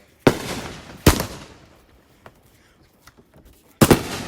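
Fireworks go off in loud, sharp bangs: two close blasts about a second apart, a fainter pop in between, and a third heavy bang near the end, each trailing into a crackling decay.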